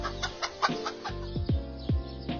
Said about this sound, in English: Watch the dog scare the chicken.